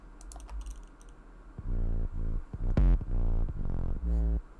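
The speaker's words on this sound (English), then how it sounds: "here's the sub bass" Distorted, gritty sub bass in an electronic track, hitting in rhythmic, buzzing low pulses that start after a quiet opening and hold loud and steady to the end.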